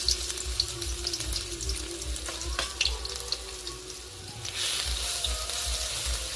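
Garlic paste hitting hot oil with black cumin seeds in a home kitchen pan, a steady broadband sizzle and hiss running throughout, close and fairly loud, with no talking.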